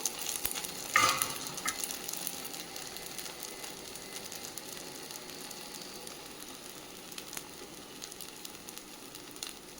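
A breakfast dish frying in a pan, both sides cooking until crisp: a soft, steady sizzle close by, with a brief louder scrape or stir near the start.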